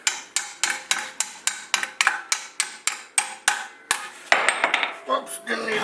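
An alignment punch is hammered into a new, tight rear suspension sleeve on a C4 Corvette, giving a regular series of sharp metallic strikes about every third of a second, followed by a few clattering knocks and scraping tool handling nearby.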